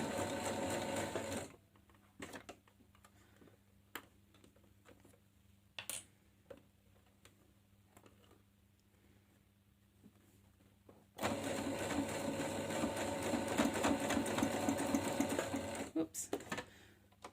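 A sewing machine stitches a cloth face mask in steady rapid whirring runs, stopping for a quiet stretch with faint clicks and handling, then starting again near and loud.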